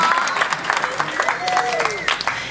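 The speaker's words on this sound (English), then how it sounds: "y'all go ahead and give them a round of applause just for being up here" Audience applause at a church youth sharing event, brisk clapping mixed with crowd cheers and whoops, voices audible over the clapping.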